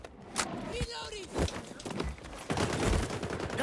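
Marksman rifle shots ring out in the shooter game XDefiant, several sharp, loud reports scattered through busy game sounds, with someone talking over them.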